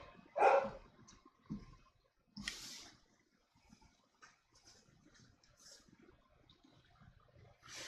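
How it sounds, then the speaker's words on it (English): Pet dogs bark in a few separate sharp bursts, one loud yip up front and fainter barks later, scattered over a quiet indoor room tone. "Ilva hears my dogs."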